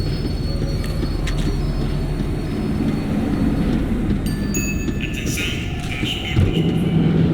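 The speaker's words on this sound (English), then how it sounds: "tram was slowing down, and I'd only just gotten on board" Tram slowing down in the video game Max Payne 3, a loud close rumble of wheels on rails with metallic squeals and a thump near the end as it brakes.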